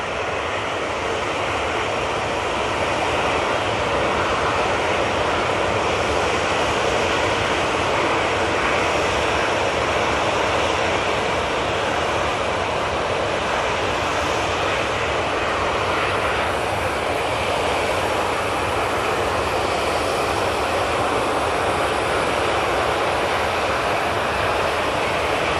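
Loud, continuous jet engine roar from aircraft at busy Manchester Airport, a broad, rushing noise that stays strong and unbroken for the whole stretch, with no voices.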